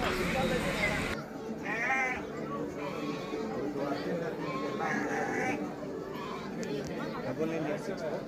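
Long-eared goats at the GKVK agricultural fair in Bengaluru bleat in short, repeated calls amid a busy crowd's chatter, with a person speaking close by.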